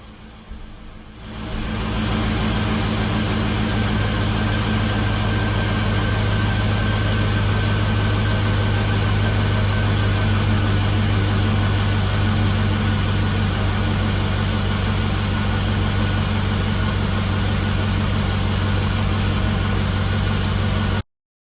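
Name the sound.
GMC Envoy XL 5.3 V8 engine idling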